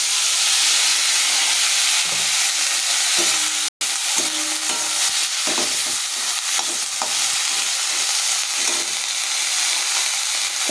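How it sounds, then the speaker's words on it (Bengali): Sliced onions sizzle and fry in hot oil in a pan, a steady loud crackling hiss broken by repeated scraping stirs of a utensil, heard close up with no talking. "তো এখন আমি যে পেঁয়াজগুলো দিয়ে দিচ্ছি।"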